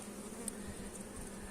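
Honey bees hum continuously at an open hive frame holding drones, a close, steady, even buzz with no voices.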